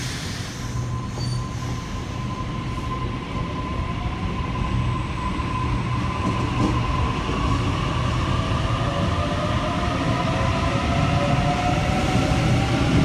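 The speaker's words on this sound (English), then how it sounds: "A32 is now departing on platform 1." A Sydney train pulls away from a platform at Parramatta station, a steady loud rumble of wheels and motors with thin squealing tones rising as it gathers speed, no voices.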